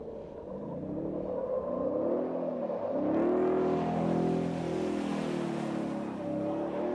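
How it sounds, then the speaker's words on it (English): A new supercharged 5.2-litre V8 Ford Raptor R pickup drifting, its engine droning loudly and steadily, then revving higher and rising in pitch as the truck slides, with a broad rushing noise building behind it. "This is the new Raptor R, new V8 Ford Raptor coming from"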